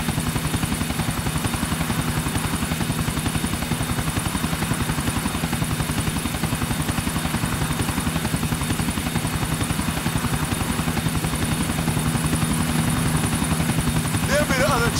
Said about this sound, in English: There'll be the other chopper